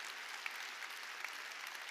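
Applause from a church congregation during a Korean sermon, a steady, dense wash of clapping with a few sharper claps standing out, moderately distant and without speech over it.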